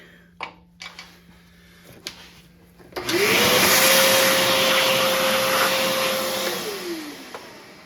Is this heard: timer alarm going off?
no